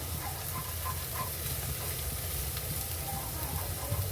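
Turmeric and coriander-cumin powder frying in oil with ginger-garlic paste for a spicy cabbage and chana dal sabzi, a steady, dense sizzle with faint stirring scrapes, close and constant, no voices.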